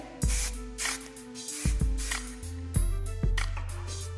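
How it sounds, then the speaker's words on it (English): Several short bursts of aerosol hairspray, close and hissy, with gaps between them and soft handling noise throughout. "I'm going to spray some air control hairspray"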